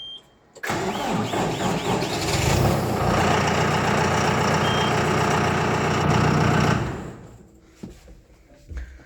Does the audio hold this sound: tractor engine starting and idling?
yes